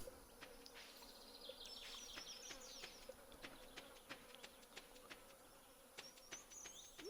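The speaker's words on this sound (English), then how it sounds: "Is it just me or like the bees really loud?" Bees in the Stardew Valley video game buzz loudly and continuously, a close insect drone with crackling ticks and bright chirping game sounds layered over it.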